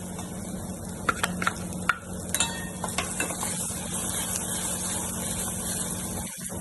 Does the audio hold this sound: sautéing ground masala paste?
yes